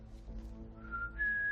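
A person whistles to imitate a space flute: a faint, thin tone that wavers low, then climbs to a higher held note, with no other sound around it.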